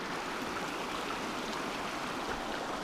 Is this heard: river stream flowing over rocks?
yes